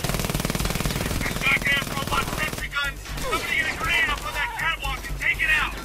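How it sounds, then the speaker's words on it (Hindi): Automatic gunfire crackles steadily in the Frontlines: Fuel of War video game, dense bursts running throughout with a louder stretch midway, while someone talks over the shooting. "हर जगह से गोलियां चल रही हैं।"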